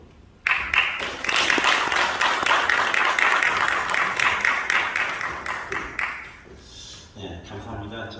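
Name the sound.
audience applause welcoming a speaker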